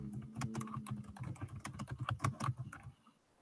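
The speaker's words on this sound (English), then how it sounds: "The one who's typing away." Rapid typing on a computer keyboard, a dense run of close, crisp key clicks in an irregular rhythm for about three seconds before stopping, quiet and alone with no talk.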